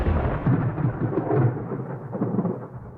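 Thunderstorm rumble with steady rain wash, a dense low roar that swells and eases, fairly loud and continuous, with no voices.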